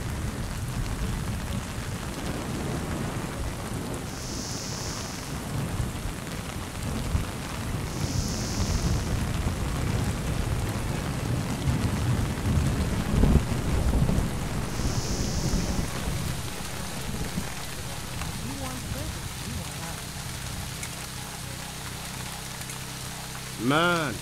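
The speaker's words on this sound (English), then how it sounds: "Man, it's really raining." Heavy rain pours steadily at the lighthouse level of Splinter Cell: Chaos Theory, a dense constant wash of noise with a low thunder rumble swelling through the middle and fading toward the end.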